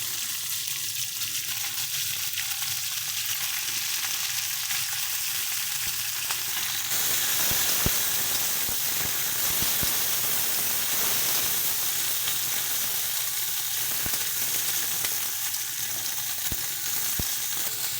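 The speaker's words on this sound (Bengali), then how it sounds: "সবজিগুলোকে একটু ভালো মতন করে আমরা একটুখানি ভাজা হতে দেবো" Chopped vegetables, eggplant and flat beans fry in a pan with a steady, close sizzle throughout, marked by occasional sharp clicks of stirring.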